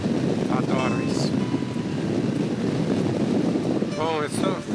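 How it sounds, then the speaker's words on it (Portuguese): Strong wind buffets the microphone on a motorcycle ride through Patagonia, a loud continuous roaring rush with gusting surges, while a rider speaks briefly over it. "foi só falar que não tinha vento que começou uma ventania"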